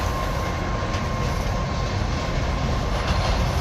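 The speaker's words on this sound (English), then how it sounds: "Here comes the train." A train rolls downhill past a hiker high in the mountains near Queralbs, a steady loud rushing rumble with a thin continuous squeal above it.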